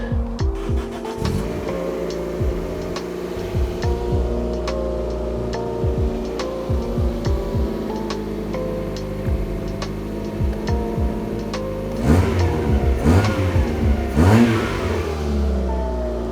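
A car engine with a homemade exhaust revs repeatedly in short throttle blips, a throaty exhaust growl rising and falling, with a few louder, rougher revs near the end.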